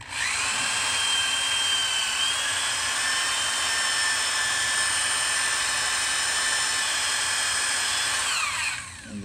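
A high-pitched power drill, powered by an inverter and spinning in reverse to burn a hole, whines continuously at steady speed for several seconds, then winds down at the end.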